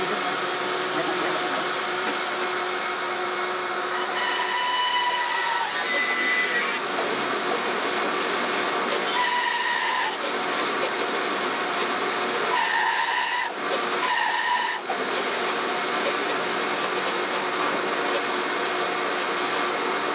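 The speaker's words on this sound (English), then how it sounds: "I'm just going to cut right down the middle of that split" A power saw cuts through a cherry wood burl along a split, a continuous loud whining buzz with steady tonal bands that dip and change pitch as the blade loads in the wood, close and without talking.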